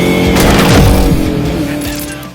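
A 2004 Ford Mustang Mach 1 with a 4.6 V8 and five-speed manual is driven hard, its engine roaring loud and close with rising and falling revs and some tire noise.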